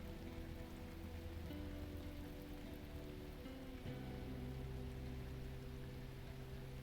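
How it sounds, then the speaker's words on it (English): Steady rain falls across an outdoor landscape in the video game Lightyear Frontier, a continuous soft patter over a low ambient music drone, with no talking. "It's a nice rainy day."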